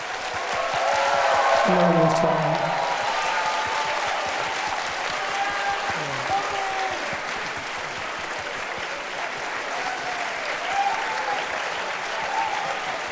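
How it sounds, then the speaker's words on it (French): Audience applause welcoming Tony Leung Chiu-wai at a film premiere screening at the Cinémathèque suisse, sustained clapping from a large hall with faint voices and a brief whistle early on. "Je vous prie d'accueillir sous un tonnerre d'applaudissements Tony Leung Chiu-wai."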